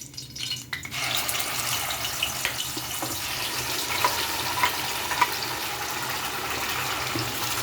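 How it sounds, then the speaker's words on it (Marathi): Curry leaves and masala fry in hot oil for a spicy Maharashtrian sev bhaji, a steady loud sizzle that continues throughout with faint scattered pops and no speech. "तेल व्यवस्थित तापलं की आपल्याला हे कढीपत्त्याची फोडणी याच्यात घालायची आणि हा मसाला आपण याच्यात टाकून देणार आहोत"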